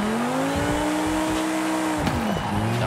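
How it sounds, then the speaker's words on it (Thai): A turbocharged Lamborghini Huracán STO in the Forza Horizon 5 racing game drives with a loud, continuous engine drone whose pitch rises and then dips as it shifts and revs, with a faint tire squeal near the end. "เดี๋ยวจะให้ฟังเสียงนะ จะได้ยินเสียงเทอร์โบนิดหน่อยนะ"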